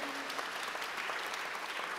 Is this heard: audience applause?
yes